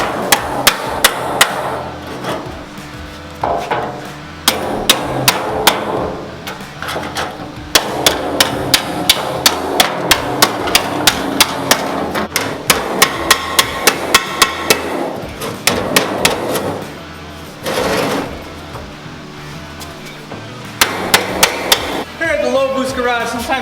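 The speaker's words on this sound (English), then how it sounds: "You got a little bow here, use the hammer." Repeated hammer blows on a 1953 Ford F100 truck bed panel, knocking out a bow in the sheet metal: sharp metallic strikes in quick bursts and steady runs, loud and close, with a faint voice between some blows.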